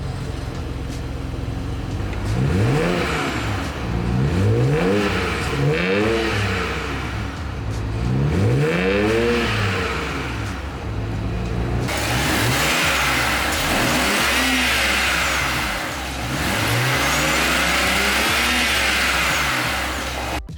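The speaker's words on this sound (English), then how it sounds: "For comparison's sake, here is what my stock 335i sounds like before mods" A stock BMW 335i engine revs repeatedly in loud, rising and falling sweeps, each burst of throttle climbing and dropping back, with steady engine rumble between pulls and a heavier, fuller roar in the later revs.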